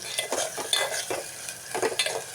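Quail curry frying in groundnut oil, with a steady sizzle under repeated stirring strokes and scrapes in the pan, close and fairly loud, with no talking.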